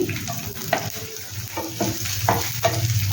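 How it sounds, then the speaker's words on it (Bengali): Chopped garlic and ginger hit hot oil for okra in yogurt gravy, giving a steady close sizzle with a few scraping stirs and soft clinks throughout. "এবার ফোড়নটা দেওয়ার পরে এবার এর মধ্যে দেব রসুন কুচি আদা কুচি"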